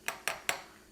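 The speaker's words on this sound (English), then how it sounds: "I do need a spoon to stir it up. I'm going to stir that together" A spoon stirring homemade ginger ale in a glass gives three evenly spaced, bright clinks against the glass, each ringing briefly and fading, close and fairly quiet.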